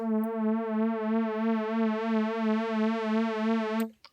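A single sustained note on an Arturia synthesizer with a regular wobbling pulse from the mod wheel, holding steady for a few seconds before cutting off abruptly.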